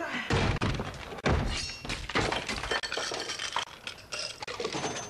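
Ice cubes clatter and clink into a glass of Coke, a series of loud close thunks and knocks with fizzing splashes, continuing steadily for several seconds.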